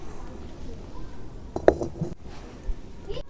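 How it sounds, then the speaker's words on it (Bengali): A single metallic clink as a wok is set down on a lit stove, amid soft rustling background noise and a few faint knocks. "এর মধ্যে আমি কড়াইটা চাপিয়ে দেবো"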